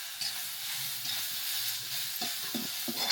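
Curry leaves and coriander sizzle in a hot pan for a Konkani kalva masala, giving a steady close hiss with light stirring scrapes and soft clatter near the end, no voices.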